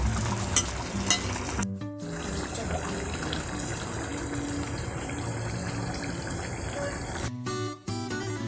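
Sea fish seasoned with onion, garlic powder and black pepper fries in a pan, giving a continuous crackling sizzle with a couple of brief dropouts.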